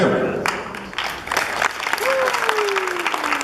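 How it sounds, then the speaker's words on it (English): Applause from an anime convention panel audience, steady clapping throughout with some crowd murmur and a brief whistle-like tone partway through. "We clap here."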